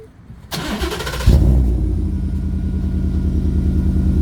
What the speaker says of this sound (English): All right, so the exhaust is on. It's started up. See how it sounds.